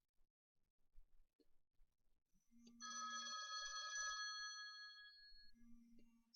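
A cell phone rings in a quiet room, a bright electronic ringtone with a short lead-in tone, a sustained multi-tone burst of about a second and a half, then another short tone as it begins again.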